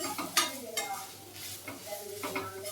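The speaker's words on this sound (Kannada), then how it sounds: "ಇದನ್ನು ಹುರ್ಕೋಬೇಕು ತುಪ್ಪದಲ್ಲಿ" Semolina and fresh grated coconut roasting in ghee on a low flame, with soft scraping and clinking of a spoon stirring in the pan over a faint sizzle, quiet and without talk.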